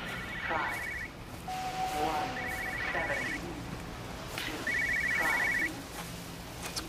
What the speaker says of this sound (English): I can hear a phone ringing,